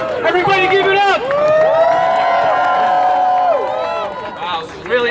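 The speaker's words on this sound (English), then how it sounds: "He deserves a big round of applause." A crowd at a Palestine protest in Times Square cheers, whoops and applauds for a speaker, with a loud, sustained burst of shouting voices that dips briefly and then swells again.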